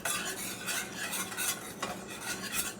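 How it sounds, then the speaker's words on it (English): Gravy for slow cooker brisket being whisked in a pan, a fast continuous scraping and swishing of the whisk with faint sizzle underneath, close and busy, with no voices. "So you just want to give it a whisk."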